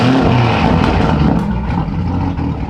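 A Mitsubishi Strada pickup's exhaust on a cold start, a loud, close, steady engine drone with a slight rise in revs, no voices over it.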